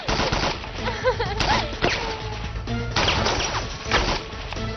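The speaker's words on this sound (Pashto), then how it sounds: "که ډزې دې بندې نه کړې خبرې دې نه اورم" Bursts of gunfire crack through a Pashto drama scene: rapid shots and sharp impacts in loud clusters, close and harsh, with a brief voice underneath.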